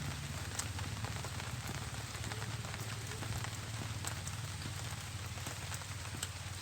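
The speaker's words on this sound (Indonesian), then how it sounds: "Sembari hujan-hujanan" Steady rain patters densely on surfaces outdoors at a fishing spot for Asian gourami, a constant close hiss with scattered individual drop hits.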